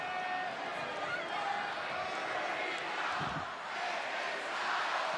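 A sold-out arena crowd of nearly 15,000 at a mixed tag team wrestling match in Detroit roars steadily, a dense wall of cheering that swells and holds throughout, with a brief thump partway through.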